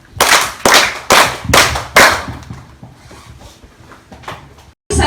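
Children and judges at a school debate giving five sharp, unison claps in a steady rhythm, loud and close, followed by a quiet pause with faint scattered noise and a brief sound at the very end.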